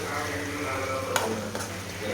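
Soy sauce and another sauce are stirred into a hot frying pan, a steady close sizzle running throughout with a couple of brief scraping strokes, no voices.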